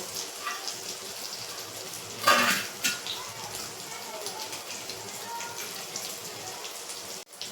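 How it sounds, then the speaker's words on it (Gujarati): Paneer shallow-frying on low heat in a pan is turned over with a utensil: one sharp clatter of the spatula against the pan stands out above a faint, steady background sizzle. "આ રીતે તેને ધીમે ધીમે બીજી બાજુ પલટાવી લેશું"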